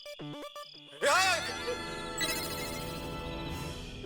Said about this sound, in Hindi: मोबाइल की रिंगटोन सुनाई दे रही है।